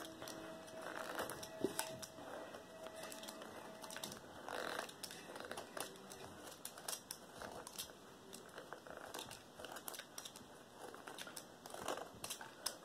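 An X-Acto knife shaves a charcoal pencil close by, giving faint, irregular scraping and crinkling strokes with quiet pauses between them, with no talking.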